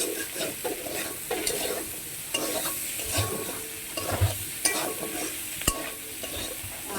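Spices, potato and paneer are stir-fried in a pan for a potato-paneer curry, with a low sizzle under repeated scraping and stirring knocks of the spatula against the pan, alone without speech.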